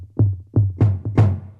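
Two electronic toms in an afro house loop, treated with delay and short reverb, strike in a syncopated pattern of about five close, punchy hits. Each hit has a low body and a brief echoing tail.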